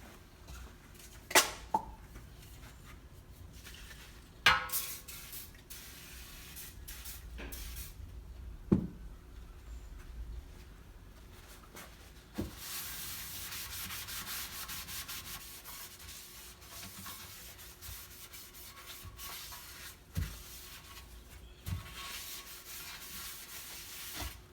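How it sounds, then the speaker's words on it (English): A transmission pan has its inside scrubbed clean of sand and grit, producing long rough rubbing and scraping strokes with occasional sharp knocks of metal, close and uneven, no one speaking. "I'm going to clean the inside of that pan, make sure there's no sand in it, no fine grit in it"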